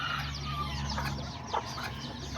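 Hens and roosters clucking in a backyard coop with a mother hen and her chicks, soft repeated clucks and short calls over a steady low background hum, fairly close and moderate in level.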